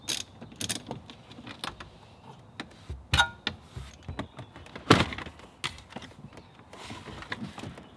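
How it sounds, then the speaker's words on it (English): Wrench work pulling 10mm bolts from a Toyota 4Runner dashboard, close irregular metallic clicks, ratcheting and clunks of loosened parts spread through the stretch with no talking. "I have 4 10mm bolts that I'm going to go ahead and remove"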